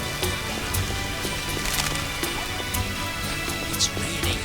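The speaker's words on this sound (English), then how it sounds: "It's raining hard." Heavy rain falls steadily in a city setting in the video game The Witcher, a dense continuous hiss of drops hitting surfaces, fairly loud and unbroken throughout.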